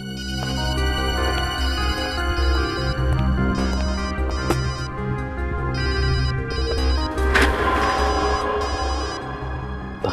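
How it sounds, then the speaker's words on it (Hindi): A mobile phone rings from inside a bag in a lab, a repeating electronic ringtone pattern that runs steadily over a dramatic music bed. "फोन तो इस बैग में से बज रहा है।"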